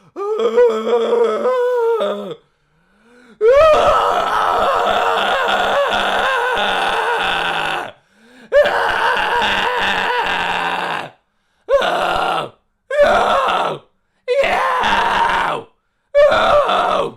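A voice lets out repeated harsh, guttural caveman-style screams as a vocal imitation, loud and close, in long sustained bursts followed by several shorter barks with brief silences between them.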